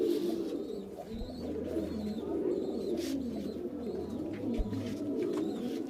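Large Chandrakani, Rampuri and green pigeons coo softly in a loft: low, rolling calls repeat over a faint background murmur, with no speech.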